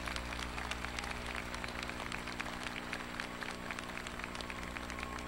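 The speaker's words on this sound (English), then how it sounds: "Let's give our senior fellows a well-deserved round of applause." A commencement ceremony audience applauds the graduating senior fellows: dense, steady clapping from a large crowd fills the hall for several seconds, with a low hum beneath it.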